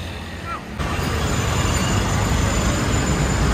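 Inside a moving train, a loud, steady low rumble and rattle of the carriage fills the scene after a brief dip, with people talking under the noise.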